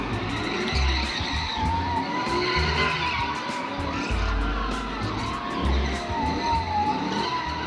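Stunt utes drift hard, tires skidding and squealing continuously while engines roar and rev, loud and close throughout with wavering screeches and deep engine rumble.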